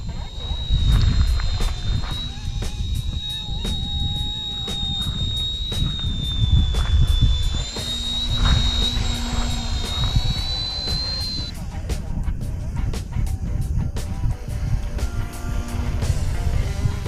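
A miniature RC helicopter hovers outdoors in gusty wind, its steady high rotor and motor whine running continuously up close, with wind buffeting the microphone underneath and a pitch that drifts slightly as it holds position.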